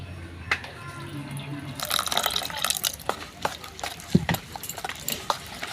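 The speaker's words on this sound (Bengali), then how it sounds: "এবার অল্প অল্প জল দিয়ে এটা ভালো করে মাখিয়ে নেব।" Flour and water are worked together by hand into a batter in a bowl, giving irregular wet squelches, slaps and clicks that start after a quiet opening.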